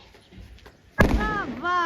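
A single sharp firecracker bang goes off during village Diwali celebrations. It comes as one sudden close burst, and voices follow immediately afterward.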